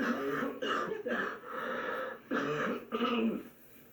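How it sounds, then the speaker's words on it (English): Several deep, rough smoker's coughs in quick bursts, close and fairly loud, with short pauses between them. "It was very deep, throaty cough."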